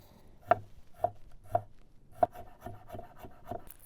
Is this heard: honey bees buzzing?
no